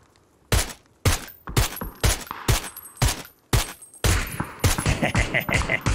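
Rapid bursts of in-game gunfire during a squad fight in the battle royale game PUBG, starting with separate sharp shots about every half second and then becoming a dense, continuous volley.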